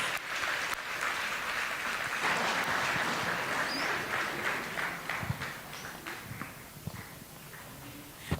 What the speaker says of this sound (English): Kindly with a big round of applause, ladies and gentlemen.